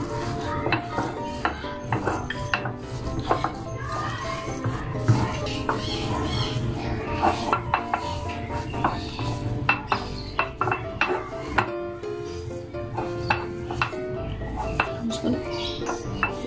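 A potato roll filling is stirred with cornflour in a bowl, giving close, irregular scraping and clinking of a spoon against the dish, with a voice talking quietly in the background.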